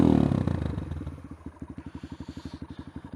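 A Honda MSX125 motorcycle fitted with a Tiger exhaust revs up, then settles into a rapid, steady popping idle-like pulse, close and fairly loud, with a faint high whine in the background.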